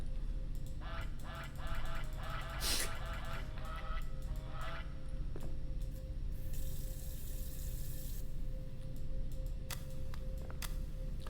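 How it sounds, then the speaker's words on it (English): Rubber goose toy honking inside a scary video game, several short squeaky honks mixed with running water from a tap or sink, fairly close and clear with no talking. "Take this as a rubber goose, not a duck."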